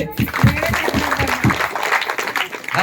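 Loud crowd applause with dense clapping at close range, steady for the full stretch, with a voice audible under it at times.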